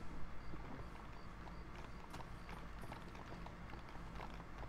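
Horse hooves clip-clop at a steady gait in the Western video game Red Dead Redemption, a continuous rhythmic patter alongside mechanical game noise, moderately loud with no talk.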